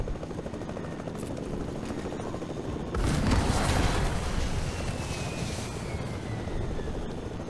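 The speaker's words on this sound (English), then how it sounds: "there's another helicopter coming in" Helicopter in the Fortnite video game, a steady whirring rotor drone that swells louder partway through, mixed with game sounds that suggest bursts of gunfire.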